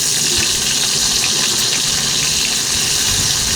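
Bitter gourd fries in hot mustard oil with panch phoron in a wok, giving a loud, dense, continuous sizzle with no pauses, close up and alone.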